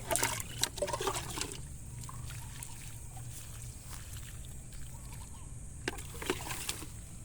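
Water poured from a dipper onto damp soil in a backyard vegetable garden, with soft splashes and trickles near the start and again toward the end and a quieter wet hiss between.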